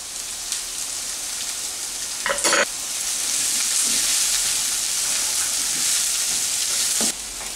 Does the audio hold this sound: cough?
no